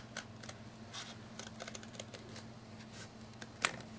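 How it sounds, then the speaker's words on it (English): Scissors snip through material while cutting out pieces for a miniature building's landscape board, quiet light snips over a low steady hum, with one crisper cut near the end. "I'll just use my scissors"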